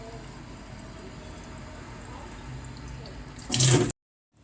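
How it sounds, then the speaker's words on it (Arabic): Tap water running into bottles at a kitchen sink, a faint steady trickle that swells into a louder gush near the end and then stops abruptly. "بتملي كل الازايز بالشكل ده والطريقه دي"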